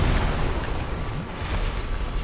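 Loud, rolling explosion blasts from a boss's attacks in Dark Souls Remastered, a continuous heavy rumble that swells and dips across the moment with no pause.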